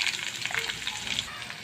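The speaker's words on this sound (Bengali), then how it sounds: "তো আমি ওই তেলের সঙ্গে আমি পেঁয়াজ কুচাগুলো দিয়ে দেবো।" Chopped onions fry in hot oil left from frying broiler chicken, giving a steady, soft sizzle throughout with faint stirring.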